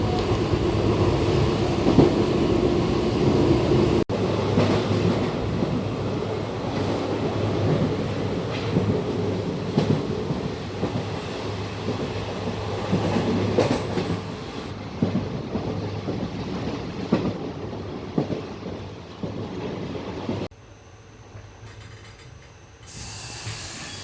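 Steady rumble and hiss of a passenger train rolling on rails, heard from inside a carriage, a continuous loud din with rhythmic clacks that drops sharply quieter near the end.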